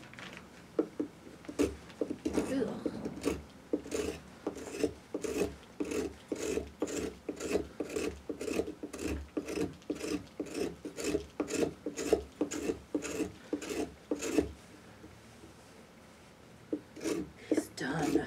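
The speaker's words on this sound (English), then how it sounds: "It's really hard to scrape the surface off this." Repeated rasping scrapes of a tool dragged across the inner flesh of a Halloween pumpkin during carving, coming in a steady rhythm of short strokes with brief pauses, close and clear, while people talk now and then.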